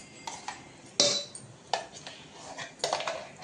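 Ground lentil batter for dahi vada is whisked in a kitchen vessel, giving sharp metallic clinks and short scraping strokes in irregular bursts, close and distinct against a quiet background, with no voices.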